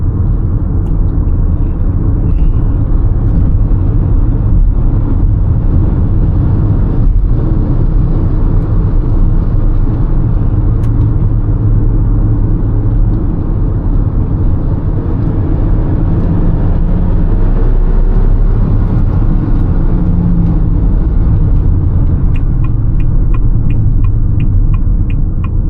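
Inside a Haval H6 GT SUV driving along a winding road, a steady, loud low engine and road rumble continues throughout with little variation and no talking.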